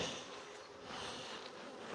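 Bees buzzing around an open hive during a late-season inspection, a dense, steady hum filling the whole stretch without pause.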